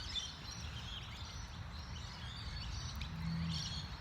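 Birds chirp faintly outdoors in nature, scattered high tweets over a low steady background rumble with no voices.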